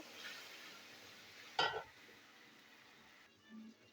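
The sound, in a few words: frying and stirring tomato masala paste in oil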